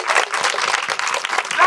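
A crowd at a 50-year class reunion and project commissioning claps briefly and briskly, a dense burst of many hands heard fairly close.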